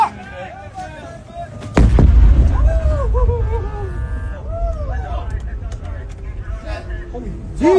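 A heavy explosion booms sharply at Al Udeid Air Base in Doha, Qatar, followed by a long rumbling roar, while people nearby shout and talk excitedly over it.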